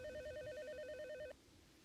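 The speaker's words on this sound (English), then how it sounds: "The ODECO main office now receives a phone call from the company man on board." A telephone rings for an incoming call aboard the Ocean Express, an offshore oil drilling rig, with a steady warbling electronic ring tone. It sounds for over a second, then cuts off abruptly, leaving faint background hiss.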